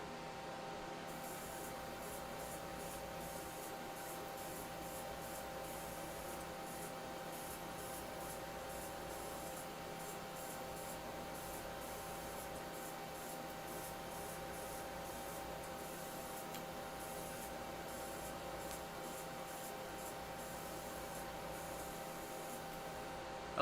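Spray paint hissing steadily as a second coat of metallic gloss paint goes onto a 1/100 scale robot model kit, a continuous close airy spray with faint pulsing bursts and no talk.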